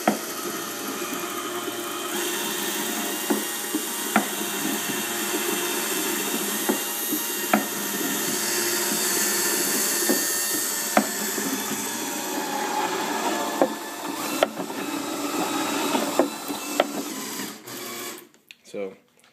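An 18-volt cordless drill drives a homemade bench-top can crusher built around a 5/8-inch bolt, giving a steady whirring grind punctuated by regular sharp clicks and clanks before it cuts off near the end.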